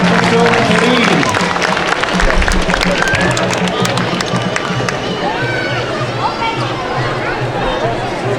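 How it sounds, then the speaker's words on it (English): An audience at an outdoor stage during the Northern California Cherry Blossom Festival applauds for several seconds in a loud, continuous patter of clapping, with cheers and crowd chatter mixed in. "one last round of applause for our scholarship winners"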